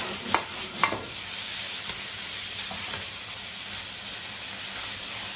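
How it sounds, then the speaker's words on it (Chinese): Asparagus and cured pork being stir-fried in a wok, with a steady low sizzle and a couple of sharp scraping stirs near the start, then continuous frying hiss with no talking. "别着急出锅啊，把这个蒜苗这个炒熟"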